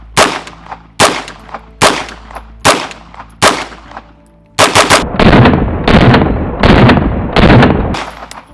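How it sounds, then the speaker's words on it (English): A B&T APC9K submachine gun fires close and loud in short bursts, five sharp sharp reports spaced about a second apart, then a sustained rapid string of shots. "let's check the recoil on the APC9K."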